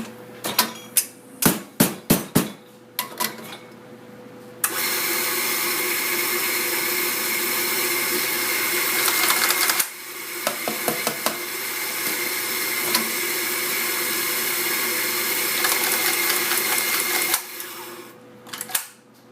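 Coffee grinder grinding beans for a macchiato, whirring loudly and steadily for long stretches after a few sharp knocks at the start, with a brief pause midway before grinding resumes.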